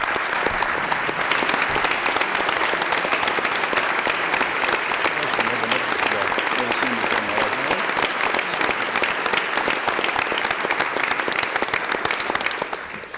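Sustained applause fills a legislative chamber as a newly sworn-in state senator is welcomed, dense and steady clapping holding at full strength before tapering off near the end.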